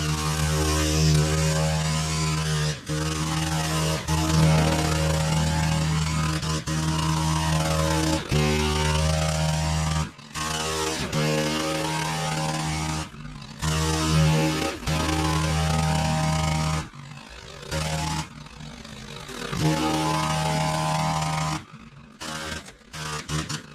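A Stihl KM131R combi engine runs at a steady, loud buzzing idle with a strong low hum, dipping and revving in short surges near the end.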